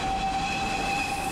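A train runs steadily close by outside Trowbridge, a continuous rumbling rush with sustained high metallic tones like wheel squeal or a horn held across a brief moment.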